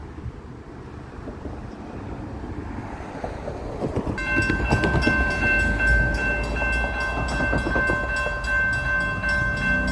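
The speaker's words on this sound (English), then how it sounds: "So there's a CSX train coming, and he has a clear signal." A CSX freight train approaches on a clear signal and rolls past with a deep, heavy rumble, its wheels squealing in sustained metallic tones as the cars go by.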